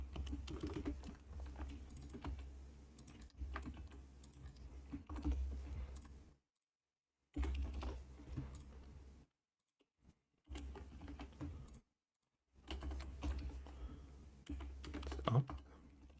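Arrow keys on a computer keyboard clack in quick bursts of presses, close and fairly quiet, with short pauses of silence between runs of tapping.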